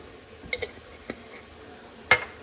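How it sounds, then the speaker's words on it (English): Dry spices, including oregano, being stirred into sizzling butter in a soup pot, a soft steady sizzle broken by a few scraping clinks of the spoon against the pot. "what I'm gonna do here is kind of stir all those dry spices in. It's gonna soak up some of that butter"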